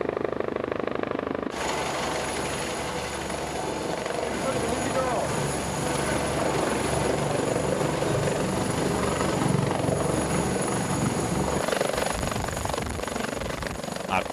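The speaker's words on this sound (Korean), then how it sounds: "그때 멀리 모습을 드러내는 헬기." A rescue helicopter arrives through bad weather at sea to fetch an injured patient. Its rotor and engine drone sets in suddenly and stays loud and steady, with voices talking beneath it.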